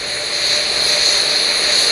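Water rushing across the Artemis rocket launch pad sound suppression system, heard as a loud, steady broadband roar with a constant hiss, alone and unbroken throughout.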